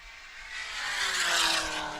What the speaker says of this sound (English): Car 522 makes some noise going by